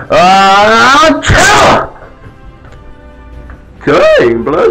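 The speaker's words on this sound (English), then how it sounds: "Here goes the bad sneeze." A loud, strained sneeze bursts out close by after a drawn-out vocal buildup, followed by a pause and more voiced sound.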